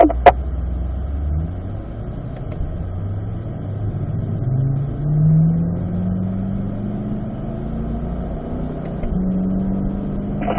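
A car engine pulls hard on a race track in manual mode, revving up through the gears with a short shift into fourth; the steady, loud, close drone rises in pitch between shifts, with no talking.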